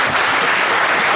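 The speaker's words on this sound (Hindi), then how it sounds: "तालियां बजती रहें" An audience at a literary and cultural society award ceremony in Chamba, Himachal Pradesh, claps in dense, steady applause that fills the short moment without letting up.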